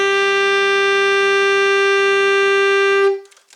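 A long, steady high E held on an alto saxophone for around three seconds, loud, close and buzzy, ending abruptly into near silence with no voices.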